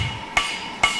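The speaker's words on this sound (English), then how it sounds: "Hammering slowly shapes the metal, in this case into an axe head." A hammer strikes a hot iron billet being forged into an axe head, landing two loud, ringing metallic blows about half a second apart over a low steady hiss.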